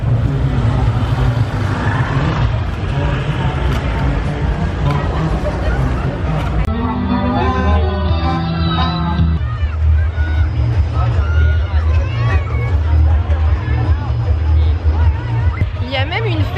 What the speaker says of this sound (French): il y a un énorme marché qui vend des objets mais aussi beaucoup de nourriture